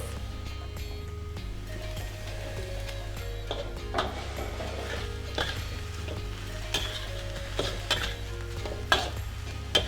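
Spring onions stir-fried in a pan for a Thai basil stir fry, with soft sizzling and irregular scraping and tossing over a steady low background hum, close and moderate in level.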